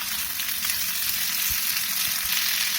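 Green and red bell peppers stir-frying with seekh kebab in a pan, a steady loud sizzle with occasional soft stirring bumps, close and continuous without talk.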